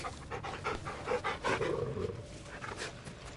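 Rapid panting from a large dog in God of War, a run of quick rhythmic breaths close to the listener, moderately loud over a busy game background and holding steady for a few seconds.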